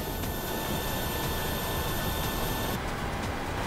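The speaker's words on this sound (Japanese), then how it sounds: "You can start the engines in sequence." Boeing 737 jet engine spooling up during start in the PMDG flight simulator, a steady continuous whine and rumble held at an even level with a high tone that drops away near the end.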